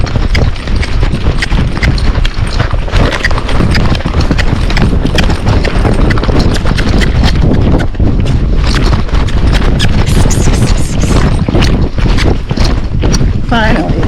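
Tennessee Walking Horse moving into a canter uphill, rapid rhythmic hoofbeats close by amid strong wind noise, with a rider talking over them.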